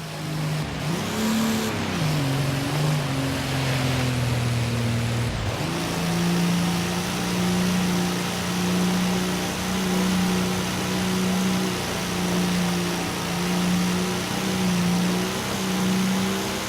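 A truck engine drives through snow in the Forza Horizon 3 racing game, a steady loud drone that dips and revs in the first few seconds, then holds an even tone.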